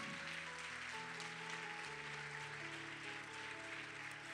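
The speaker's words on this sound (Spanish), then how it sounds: "Cuando aplauden al Señor un poco más fuerte" A church congregation clapping in praise of the Lord during a service, a faint, steady wash of applause beneath sustained organ or keyboard tones that shift pitch partway through.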